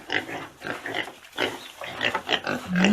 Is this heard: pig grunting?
yes